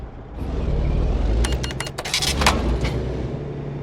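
Truck engine rumbles low and steady in American Truck Simulator as the rig strains to pull out, with a burst of bright hissing and clattering bursts in the middle.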